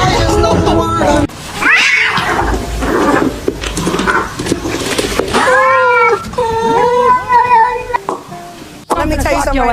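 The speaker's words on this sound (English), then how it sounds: "Seriously, this cat's a little stupid." A house cat meows and caterwauls in long drawn-out wails, loud and close, while people talk and exclaim in between the calls.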